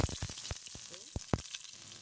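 Food fries in coconut oil in a pan, giving faint, sharp sizzling crackles and pops that come in irregular bursts over a low background hiss.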